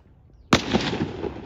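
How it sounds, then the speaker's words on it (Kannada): A sharp report from police shooting practice nearby, a single sudden bang followed by a sustained rumbling echo and outdoor noise. "ಇದು ಹಿಂದಿನ ಶಬ್ದ ಏನಂದರೆ ಪೊಲೀಸ್ನವ್ರದ್ದು ಕೋಚಿಂಗ್ ನಡೀತಾ ಉಂಟು, ಶೂಟಿಂಗ್"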